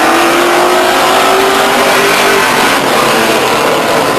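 Race cars roar around the oval at Stockton 99 Speedway, engines loud and continuous, revving and sweeping past with a steady high-pitched drone throughout.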